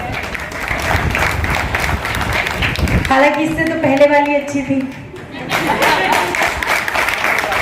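An audience claps at an Independence Day comedy poetry gathering in a Hindi entertainment club, loud bursts of applause at the start and end with someone speaking in between.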